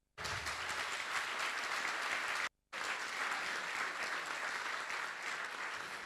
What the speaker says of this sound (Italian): e quindi un doppio applauso